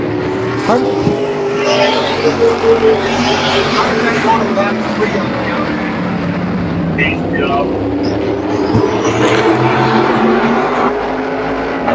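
OSCAAR modified race cars roar around Peterborough Speedway, a continuous loud engine drone with cars sliding through the turns and occasional tire noise, while an announcer calls the race over the top.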